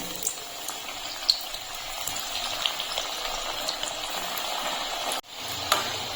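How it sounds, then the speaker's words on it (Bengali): Nimki, flour and coriander snack strips, slipping into hot oil and frying, giving a steady bubbling sizzle with small crackles and pops throughout, with a brief break near the end before the frying hiss resumes. "তেল গরম করতে বসিয়েছি এখন আমি নিমকিগুলো ছেড়ে দিচ্ছি"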